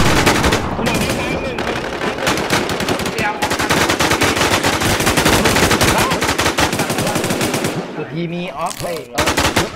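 Gunfire in the video game Infestation, dense rapid automatic bursts filling the clip loudly and almost without pause, with shouted voices mixed in near the end.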